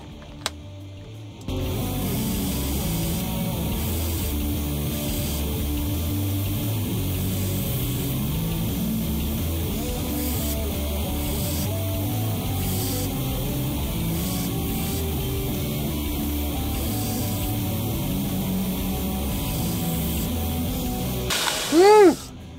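AEB-L stainless steel knife blade being ground on a grinder for a modified chisel grind: a continuous harsh grinding rasp runs nearly the whole time after a short quiet start, ending abruptly with a brief whine as the machine spins down.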